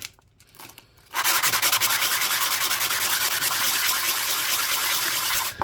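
Very fine sandpaper rubbed against the edge of a ring made from a 1973 Barbados dollar coin, starting after a quiet second and then a loud, close, steady rapid scraping with no talk.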